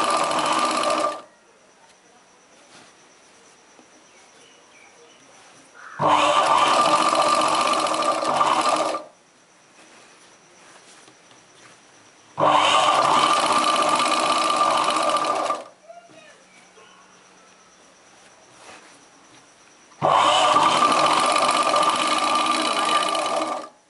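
A sewing machine stitches a chudidar top in four loud, steady whirring runs of about three seconds each, separated by quiet pauses with a faint background hum.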